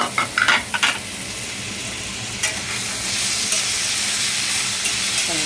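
Tomato and curry leaves being sautéed in a pan for dal khichdi, a few quick clinks and stirring knocks at first, then a steady close sizzle that carries on, with no speech.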